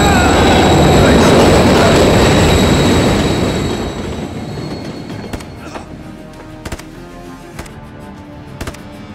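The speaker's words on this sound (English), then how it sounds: "Another train coming." A train in Call of Duty: Modern Warfare 3 rumbles loudly past, its roar fading over several seconds into quieter clacks and scattered metallic clicks.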